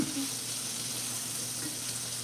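A steady, moderate sizzle of peppers and onions frying in a hot pan, continuous with faint kitchen noise beneath.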